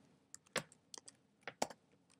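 A domain name is typed on a computer keyboard as a short run of soft, uneven keystrokes with small pauses, close and quiet, with no voices.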